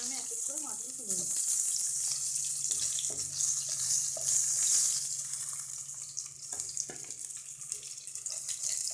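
Rohu fish pieces frying in hot oil in a pan, a steady bright crackling sizzle throughout with a few clinks, and a brief voice near the start.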